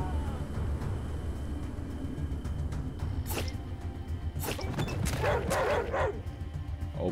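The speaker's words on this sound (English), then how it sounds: "There's no way I can kill the dog." An injured dog in Atom RPG gives a few sharp yelps and whimpers toward the end, rising over a constant low ambient rumble.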